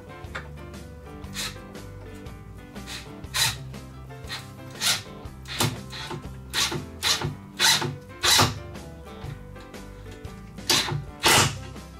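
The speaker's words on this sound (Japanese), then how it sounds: "インパクトドライバーって全速力で回したらあかんねんな" An impact driver drives screws while a wooden shelf is being built, with repeated short whirring and rattling bursts close by, separated by brief pauses.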